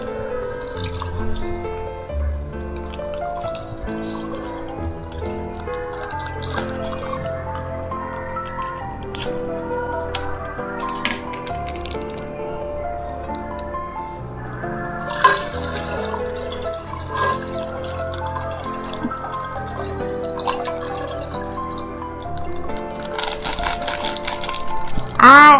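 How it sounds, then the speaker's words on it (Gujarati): One litre of milk poured into cooked rice in a pot for kheer, a continuous liquid pour with splashing and gurgling heard over background music, close and fairly loud throughout. "હવે આપણે દૂધ નાખી દઈશું અંદર. આ 1 લીટર મેં દૂધ લીધું છે."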